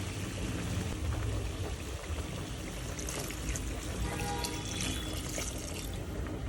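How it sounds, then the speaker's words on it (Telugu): Water pours into a cooking pot of country chicken curry simmering in oil, a steady rushing splash that runs without a break for several seconds at moderate loudness. "ఇప్పుడు వాటర్ వేసుకోవచ్చు"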